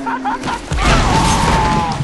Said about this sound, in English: those explosions have a huge blast radius too, so watch out